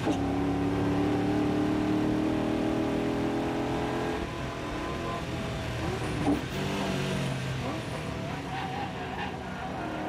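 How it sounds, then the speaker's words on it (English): V8 ute race car on Yokohama tyres at Winton Motor Raceway, engine roaring loudly throughout as the tyres scrub and squeal through a slide, the note dipping midway before building again. "you can just hear the Yokohama tyres resisting and protesting, but Fisher feeling the pressure."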